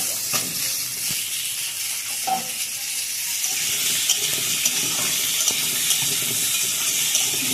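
Pumpkin and potato frying in oil with cumin seeds, dried red chili and bay leaf, a continuous loud hiss and sizzle with scattered pops and occasional stirring scrapes, close by.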